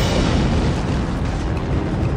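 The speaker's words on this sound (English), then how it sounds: "BLEVE is an acronym that firefighters use to explain boiling, liquid, expanding vapor explosion." A loud, sustained roaring rumble with a deep, heavy low end from a BLEVE, a boiling liquid expanding vapor explosion, the blast continuing without a break.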